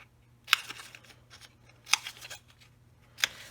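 Scissors trimming the corners of a small chipboard square for a mixed media altered journal: three sharp snipping cuts spaced about a second apart, close and moderately loud over a quiet room hum.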